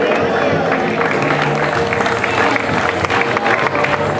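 Spectators applaud a cyclist at the presentation for a cycling trophy race in Canals. The clapping is lively and continuous amid outdoor crowd noise, with an announcer's voice partly over it.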